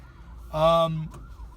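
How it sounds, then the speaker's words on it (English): An ambulance siren on a road as traffic fails to pull over, a brief loud wailing tone that swells and fades within about half a second, heard alone over faint background rumble. "You got to get out of the way of the ambulance."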